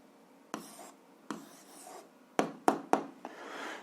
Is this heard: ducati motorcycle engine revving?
no